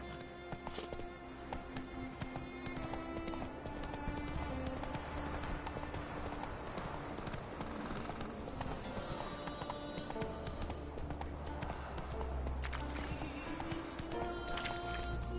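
Hooves clip-clop steadily as a horse gallops in The Witcher 3 video game, a dense, continuous rhythm over a constant game soundscape.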